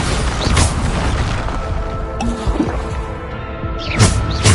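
Bombarda spell blasts in Hogwarts Legacy go off as heavy, booming bursts with a crackling magical tail. The two main hits land about a second and four seconds in, over a dense, loud bed of game effects and music.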